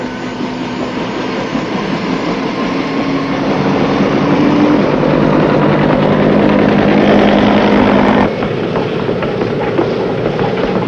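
Army helicopters fly near a Navy amphibious ship off Vietnam in 1967, a steady, dense rotor and engine roar that holds loud and even throughout, with a slight shift in tone late on.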